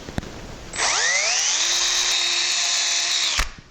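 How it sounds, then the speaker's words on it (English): A power drill pre-drilling screw holes in wood whirs up to a high, steady whine, runs for about two and a half seconds, then cuts off abruptly. Close and loud. "I'm going to pre-drill for a set of screws"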